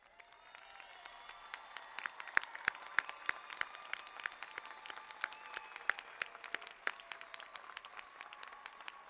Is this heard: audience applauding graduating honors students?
yes